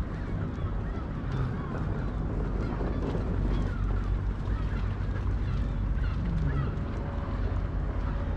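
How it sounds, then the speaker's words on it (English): Waterfowl honking and quacking along the Union Canal at Fountain Bridge in Edinburgh, scattered calls over steady wind and water-vehicle rumble, fairly close and continuous. "Ducks."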